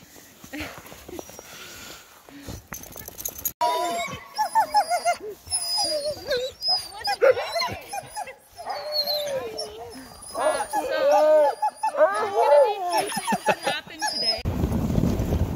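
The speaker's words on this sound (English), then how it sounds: "Looks like they're unloading the dogs and the sleds right now." Sled dogs at a snowy dog-sledding site in British Columbia, whining, yipping and barking in bursts, close and fairly loud, with some people talking in between.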